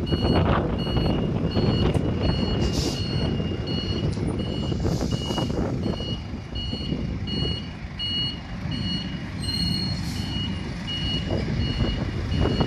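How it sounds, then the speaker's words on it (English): A forklift reversing slowly, its backup alarm sounding a repeated high electronic beep in a steady rhythm over the close, constant rumble of the engine and wind. "The vehicle has to be driven in reverse slowly"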